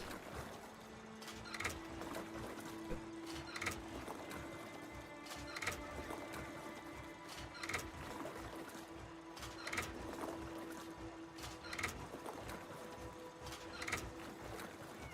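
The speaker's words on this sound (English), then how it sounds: "Press R repeatedly to pump until the wall lever lowers into position" Pumping a lever-operated pump in a video game to lower a wall lever: about seven sharp, clattering strokes at an even pace of roughly one every two seconds, over a steady low hum.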